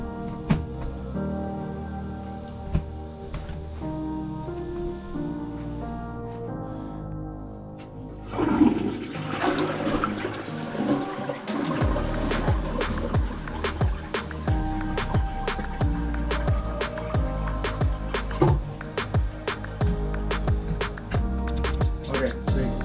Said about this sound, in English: so you can see the toilet water comes up and then goes down